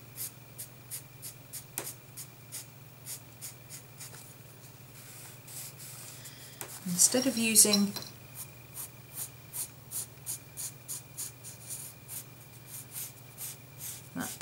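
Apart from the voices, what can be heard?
freehand drawing on paper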